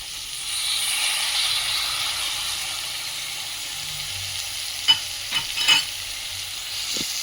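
Carrots and other vegetables for a Bhogi mixed-vegetable bhaji are stirred in a pan over a steady low sizzle, with a few distinct spoon scrapes late on.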